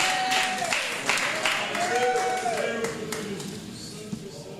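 Congregation clapping during a bilingual Portuguese-Spanish missionary sermon in church: scattered, moderately loud claps mixed with sustained tones from music or voices, fading slightly toward the end.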